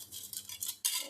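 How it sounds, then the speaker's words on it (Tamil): A spoon clinks and scrapes against a glass of lemon juice with mint leaves in a few quick, light strokes, close by and fairly quiet. "இந்த மாதிரி கரண்டி வச்சு நல்லா கலந்து விட்டுக்கோங்க"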